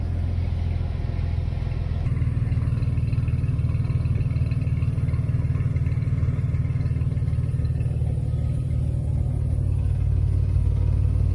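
A 1994 GMC Jimmy 4x4 with a six-cylinder engine idles steadily after starting, a loud, close, even rumble that deepens and strengthens after the first couple of seconds, with no talking.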